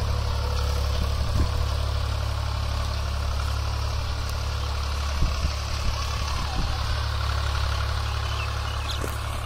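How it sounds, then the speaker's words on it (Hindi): A Swaraj 735 FE tractor engine idles steadily at around 1200 to 1300 rpm, a constant low, throbbing drone, close and continuous with a few small knocks. "और 12-1300 आरपीएम पर ट्रैक्टर चल रहा है।"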